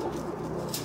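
A pigeon in a loft of spinner pigeons gives a soft, low coo, brief and fairly quiet, with no voices heard.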